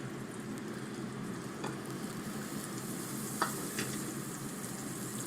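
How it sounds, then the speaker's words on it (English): Steady, soft sizzling of butter in a hot pan with snapper fillets, a continuous crackling hiss with a few faint clicks, no talking. "you can hear the butter sizzling"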